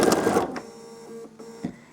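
A sewing machine stitches beads in place for machine couching, giving a loud mechanical whir that stops after half a second, then softer clicks and a hum.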